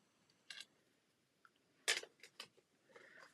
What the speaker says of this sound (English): So I'm just going to fussy cut around here.